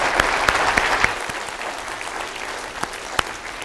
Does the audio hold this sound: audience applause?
yes